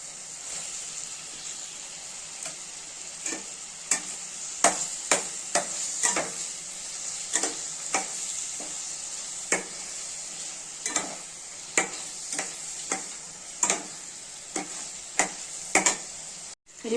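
Cauliflower and potato frying in a pan, a steady bright sizzle punctuated by repeated sharp spatula scrapes and knocks at an uneven rhythm, close and clear with no talking.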